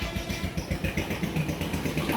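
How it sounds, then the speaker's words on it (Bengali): A Brazil 1 horsepower electric motor runs with a steady, loud, rough hum and a low rhythmic throb, continuing alone without pause. "এই যে এখন আমি মোটরটা চালাচ্ছি,"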